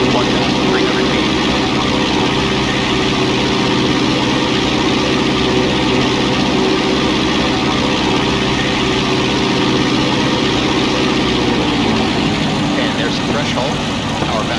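A Piper Cherokee's piston engine drones steadily from inside the cabin on the downwind leg of a normal traffic pattern at about 90 knots and 1,300 feet, loud and continuous, easing down in pitch near the end, with a voice talking over it.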